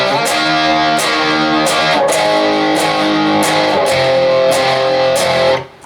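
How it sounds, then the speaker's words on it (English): Loud distorted electric guitar power chords strummed in a steady chugging rhythm, repeated groups of hits, alone with no voices, ending abruptly. "it's all power chords"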